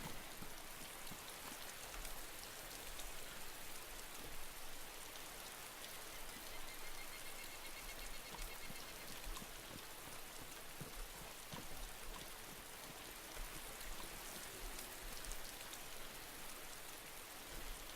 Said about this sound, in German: Ein bisschen Regen kann stehen im T-Shirt.